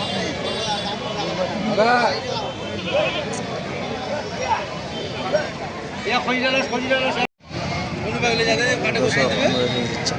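Goats at a livestock market in Baliadangi, Thakurgaon bleat repeatedly amid a crowd, their cries mixed with constant nearby talking and babble.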